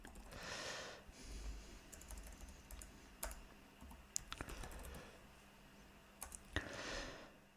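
A computer keyboard clicks as a folder name is typed, soft, quick keystrokes in short runs with pauses, quiet and close.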